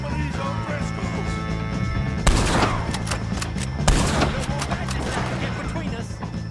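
Gunfire from a Red Dead Redemption 2 shootout with O'Driscoll gang members: repeated shots and two sharper loud bursts, under steady background music and talk.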